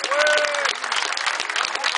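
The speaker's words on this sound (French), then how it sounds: "On applaudit Jean-Loup ou quoi?" Crowd applauding during a meal at a medieval festival near Saint-Aubin-du-Cormier, dense clapping from many hands with a voice speaking over it at the start.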